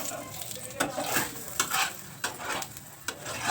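An aloo paratha fries in white oil poured around its edge in a pan, a soft continuous sizzle broken by a few light scraping and turning sounds.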